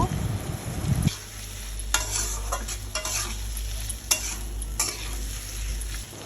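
Vegetable stems, tomato and potato curry being stirred in oil in a pan, with a steady low sizzle and repeated scraping strokes of a spoon over about six seconds, close and clear with no talking.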